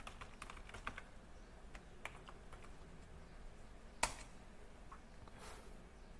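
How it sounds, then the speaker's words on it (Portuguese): Password being typed on a computer keyboard: a quiet run of soft, irregular key taps with one sharper, louder click near the end, no voices. "Então a gente vai digitar a senha dele aqui."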